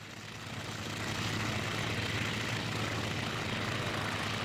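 Propeller plane engine in IL-2 Sturmovik, a steady droning roar with a low throbbing hum that swells slightly then holds constant, close and continuous with no talk.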